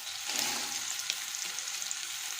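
Sliced onions frying with turmeric powder in a pan for a Bengal-style fish curry with mustard, giving a steady, bright hiss of sizzling oil with a few soft clicks of stirring, close and uninterrupted.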